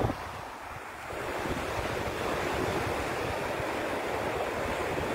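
Sea waves churn in a continuous broad wash, a dense steady surf roar that swells slightly after the first second, with wind buffeting the microphone and no voices.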